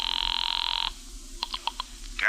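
A telephone ringing in an old radio drama, a loud buzzing ring that cuts off, followed by a few short clicks and clunks as the receiver is picked up.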